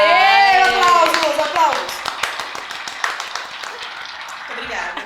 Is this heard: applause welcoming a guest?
yes